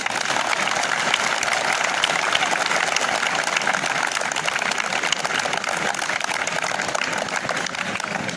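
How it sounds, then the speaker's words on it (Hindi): An audience at a school discussion event at an intermediate college in Azamgarh claps continuously and loudly, a dense, even wash of applause that fills the whole stretch without a break. "इसलिए आप लोग लगातार तालियों की गड़गड़ाहट बनाए रखें।"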